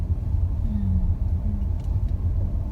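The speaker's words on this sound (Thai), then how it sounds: "ขึ้นไปจอดรถด้านบน" A car rumbles steadily as it drives up to park near a large temple chedi, a low continuous engine and road drone close by with no talk.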